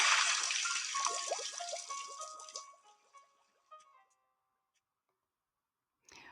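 Splashing and sloshing water as a mouse scrubs and washes the floors, bright and busy at first, then thinning out into scattered drips and trickles before a short final splash.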